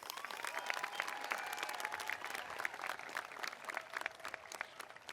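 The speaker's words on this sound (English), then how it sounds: "Give all of our honorees another round of applause." A high school commencement crowd gives honorees a sustained round of applause, dense steady clapping from many hands throughout.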